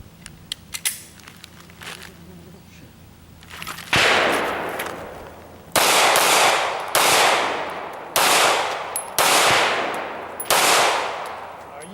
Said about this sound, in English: he's back to shooting 2 to the body, 1 to the head, near to far